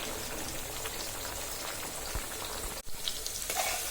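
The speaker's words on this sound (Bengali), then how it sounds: "আমার পেঁয়াজ, রসুন, কাঁচামরিচ একদম ভাজা হয়ে গেছে।" Onion, garlic and green chili frying in a pot for a lentil and mixed vegetable dish, a steady close sizzle with crackling spatters and a brief clink near the end.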